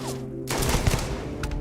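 A gun firing in a video game, a sudden dense burst of rapid shots kicking in partway through and continuing loudly to the end.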